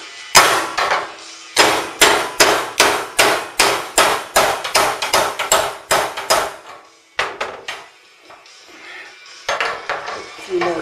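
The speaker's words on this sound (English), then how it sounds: "show a little bit of this hammer action" A hammer drives metal staples in a quick, steady series of sharp, ringing taps, then pauses and resumes with a few more close, loud blows.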